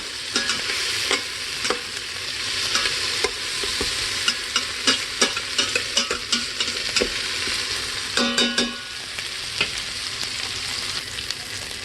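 Chilies and tomatoes fry in an Instant Pot, giving a steady close sizzle with repeated sharp clicks and scrapes of stirring throughout.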